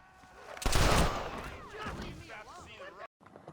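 Gunfire from a Red Dead Redemption saloon brawl, a loud burst of shots and impacts near the start, followed by game voices and background noise that drop out briefly near the end.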